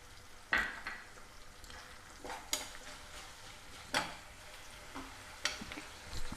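Onions frying in a pan for a sprouted horse gram masala curry, a soft steady sizzle broken by several sharp stirring scrapes and clinks of a spatula against the pan, with no talking.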